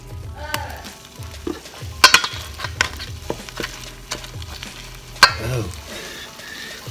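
Grapes dropped into homemade liquid nitrogen, bubbling and boiling with a steady frothy sizzle, broken by a few sharp clinks and splashes, close and moderately loud with no talking.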